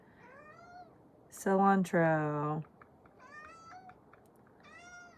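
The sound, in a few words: cat meowing to go outside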